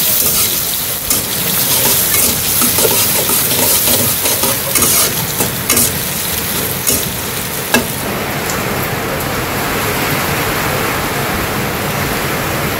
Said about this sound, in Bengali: জিরা তো দিয়ে দিছি, একটা তেজপাতা দিয়ে দিলাম।